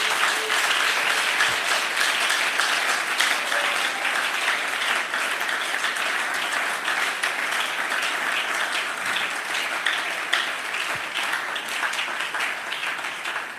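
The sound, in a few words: congregation applauding and cheering to acclaim Jesus Christ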